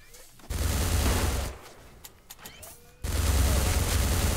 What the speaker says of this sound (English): The robot has a minigun.